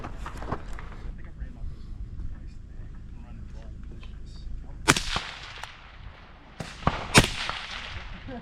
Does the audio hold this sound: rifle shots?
yes